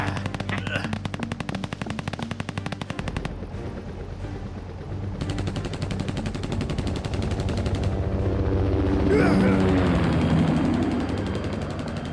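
Sustained bursts of rapid machine-gun fire trading back and forth in a soldiers' battle, loud and dense with brief gaps between volleys and a rising rumble of heavier fire toward the end.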